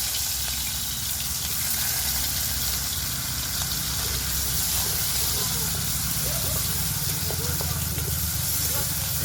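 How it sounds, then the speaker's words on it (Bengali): Two medium chopped onions sizzling in hot oil with whole cumin seeds: a loud, steady hiss and crackle fills the whole stretch, with a voice faintly underneath. "অল্প গোটা জিরে দিলাম এবার দেব পেঁয়াজ কুচি দুটো মাঝারি সাইজের পেঁয়াজ"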